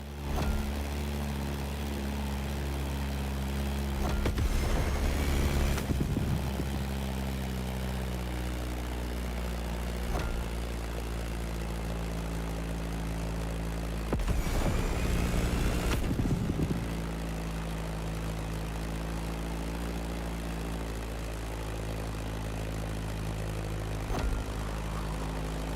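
A Beechcraft Staggerwing biplane in The Crew Motorfest drones steadily with a constant propeller engine hum, swelling louder in two brief passes and fading back to an even, continuous tone.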